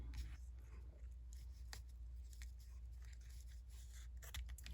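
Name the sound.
scissors trimming ribbon ends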